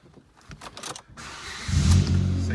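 A 2011 Ford Fiesta 1.25 petrol engine with a manual gearbox cranks briefly with some clicks, then catches and settles into a steady, close idle hum.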